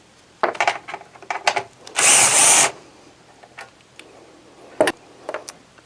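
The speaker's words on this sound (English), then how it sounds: "We also will need to remove this little P-clamp on the side here. That is a 5/16 socket." A power socket driver with a 5/16 socket removes a P-clamp during a defrost thermostat replacement on a Santa Fe XT dehumidifier, giving one sustained whirring burst of under a second amid scattered clicks and tool handling knocks.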